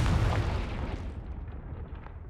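The Confringo explosion spell in Hogwarts Legacy goes off as a single loud, close blast that rumbles and fades over about two seconds, heard alone.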